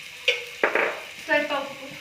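A tomato mixture sizzles in a pan while being stirred, with a few soft scraping clinks and short hissing bursts over two seconds.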